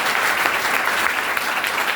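An audience claps steadily for a speaker at a motivational talk, a dense, even wash of applause lasting the whole moment with no break.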